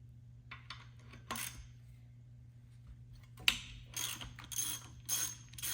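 Close ratchet clicking in short, separate bursts as a 13 mm socket backs out the rear brake caliper bolts on a 2006 Dodge Ram diesel, with brief quiet gaps between strokes and a faint metallic clink.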